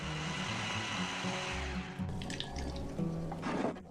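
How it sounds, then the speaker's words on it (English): A kitchen blender purees fresh peeled tomatoes into sauce, its motor whirring steadily with shifting pitch as the blades churn through the wet mixture, growing rougher and more sloshing toward the end. "Blend the aromatic tomatoes in a blender"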